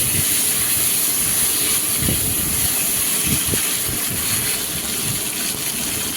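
Potatoes tipped into hot oil in a pan where fish was fried, then stirred, giving a steady loud sizzling hiss with a few scraping clatters partway through.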